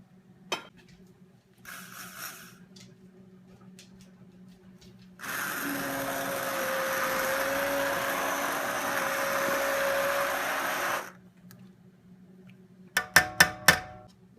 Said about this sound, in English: use our immersion blender for just a couple of seconds